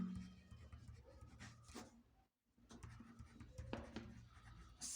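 A pen writes on paper during a Class 4 maths lesson, making soft scratching strokes close by with one brief silence. The writing is quiet, and faint background sound runs underneath.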